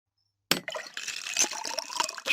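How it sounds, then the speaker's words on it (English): A small cup of water is knocked over: after a brief silence comes a sudden splash and clatter, then a short stretch of spilling, splattering liquid that sounds close and fairly loud. "he knocked over a small cup of water"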